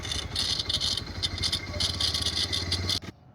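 A running Bajaj Pulsar 125 motorcycle, nearly new, gives off a loud, rhythmic rattling and clattering over its engine note for about three seconds before cutting off abruptly.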